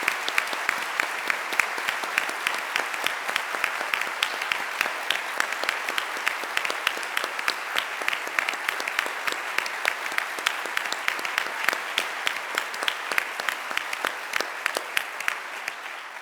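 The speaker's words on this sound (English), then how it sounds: "I hope you'll join me in a warm round of applause for Father Jenkins." Warm, steady applause from the audience at a 2023 university faculty address, with many hands clapping in a dense, even patter that holds at a constant moderate level for about sixteen seconds without any speech.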